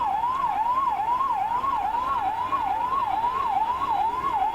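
A fire engine siren sounds at a department store fire. The loud, close wail cycles rapidly up and down in pitch, about two cycles per second, and carries on steadily with no talk.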